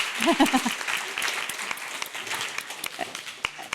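Applause from an academic symposium audience, steady clapping throughout, with a voice speaking briefly over it at the start.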